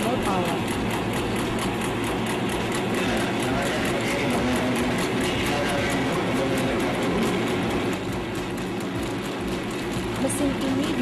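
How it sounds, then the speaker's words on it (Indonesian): A stainless steel meatball-forming machine running after power-on, producing a dense continuous mechanical whir and rattle, steady and close throughout. "Lalu, kita tekan tombol power."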